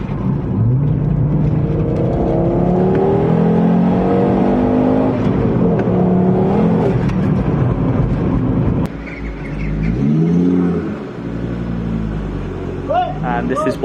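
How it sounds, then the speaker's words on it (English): A Volvo 850 T5 heard from inside while driving, a loud continuous engine and road drone with shifting pitch as it accelerates and changes gear, with people talking over it. "We're in his Volvo 850 T5 and we're going to head and go see the now."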